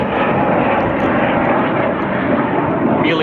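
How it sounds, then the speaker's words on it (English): A Hornet military jet passes overhead with a loud, steady broadband roar that holds at full strength throughout, with no other sound rising above it. "Oh, there's a military plane, Hornet."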